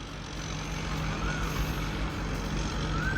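A heavy sugarcane-hauling truck engine rumbles steadily at close range, a continuous low drone with faint higher whines drifting over it.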